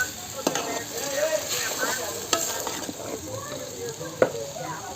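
Kalai greens with salt, turmeric and spices stirred in a frying pan, giving a constant sizzle broken by repeated spatula scrapes and knocks close by.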